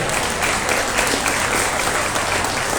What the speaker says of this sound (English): Let's give him a big round of applause right here.